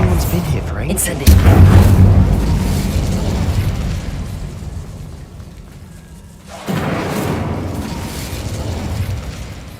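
A fiery spell explosion in a wizarding video game lands as a deep, loud boom with a long crackling rumble that dies away, then another burst of blast noise follows after a brief lull.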